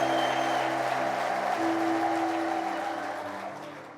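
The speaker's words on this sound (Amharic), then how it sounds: "እስቲ ለዚህ ጌታ ይሄን አምላክ ነው ማመልከው የሚል ብቻ እልልታ፣ ጭብጨባ" Applause and ululation rise from a church congregation in worship, a dense continuous wash of clapping with sustained trilling tones layered over it, fairly close and full, tapering slightly toward the end.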